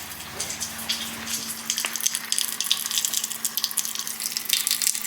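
Water runs through an Angel X2 tankless RO purification system, a close, steady hissing flow that builds and splashes a little louder toward the end, with no speech.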